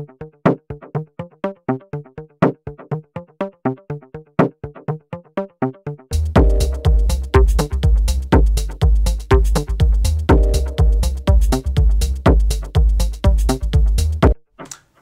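A Logic Pro X arpeggiator synth sequence ticks along alone in rapid, evenly spaced plucked notes, then joins a full backing track with heavy bass and drums about six seconds in, playing loud and steady until a brief stop near the end.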